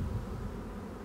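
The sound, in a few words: bees buzzing at a beehive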